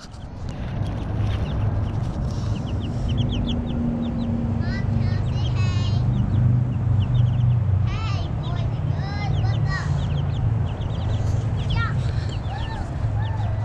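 Chickens in a chicken tractor out in a sunny yard, with scattered clucks and squawks over a steady low hum and voices talking throughout.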